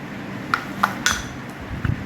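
A spoon clinking lightly against a small bowl while mixing a beetroot face pack with honey, a few soft scattered taps at close range.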